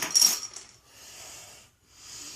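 A bottle of Humboldt 500 BC Double IPA, an 8.3% strong ale, is cracked open with a short bright metallic pop of the cap, followed by a soft, fading fizz of escaping carbonation.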